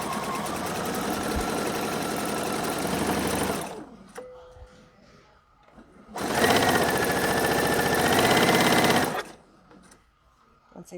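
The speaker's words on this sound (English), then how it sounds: "stitch my seam" A sewing machine stitches a seam in fabric for a Miyako bag, running in two fast, even bursts of rapid mechanical whirring, separated by a quiet pause with light handling clicks.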